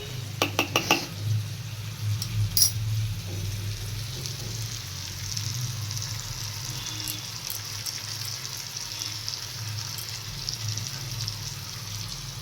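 Potato pieces frying in oil in a pan for aloo posto, a continuous hissing sizzle held at an even level, with a few utensil clatters at the very start.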